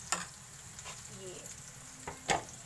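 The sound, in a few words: egg and paratha frying on a pan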